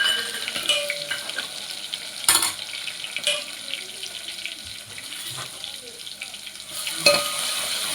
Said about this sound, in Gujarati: हवे तेमां समारेला टमेटा नाखीश।